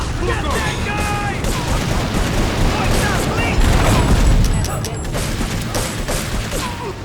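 Rapid gunfire and booming bursts from a PlayStation 2 video game run dense and loud throughout, with voices talking over the action.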